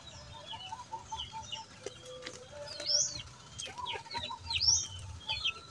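Chickens cluck and call nearby in a rural yard, with soft clucks and a few sharper squawks that rise and fall amid low background noise.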